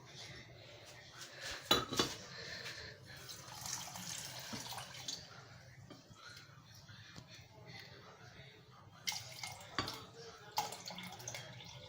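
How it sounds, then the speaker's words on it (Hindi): Water is poured into a jug holding cherries and sugar, a steady splashing stream with clinks of kitchenware over about twelve seconds, close and moderately quiet. "अब हम इसके अंदर पानी शामिल करेंगे।"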